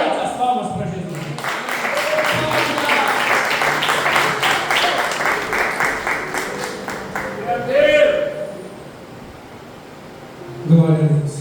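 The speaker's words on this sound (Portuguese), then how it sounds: "Levante as palmas para Jesus." Church congregation clapping hands together in worship, a steady dense patter of many palms lasting several seconds, with a preacher's voice speaking over and after it.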